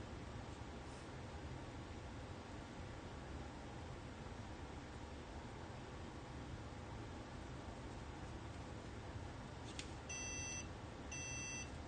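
A Mayku Multiplier vacuum former gives a short run of electronic beeps near the end, heard over a steady broadband hiss of machine noise that fills the rest of the stretch.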